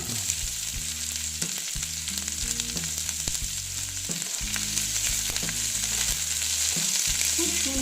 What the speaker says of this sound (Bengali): একটু আবার ভেজে নিচ্ছি তারপরে দিচ্ছি পেঁয়াজ কুচি